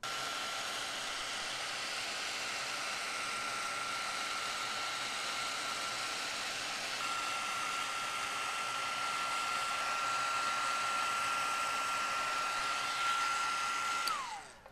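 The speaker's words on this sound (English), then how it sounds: "All right, let me get my heat tool." Heat tool for embossing on a handmade card, a steady, even whirring blow that runs at constant loudness, with a faint high whine, then clicks off abruptly at the end.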